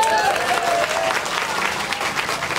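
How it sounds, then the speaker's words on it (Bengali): An audience at a Bangladeshi political speech breaks into applause, a sustained dense patter of many hands clapping, fairly loud and continuous, with some crowd noise mixed in. "হাততালি তো দিচ্ছেন"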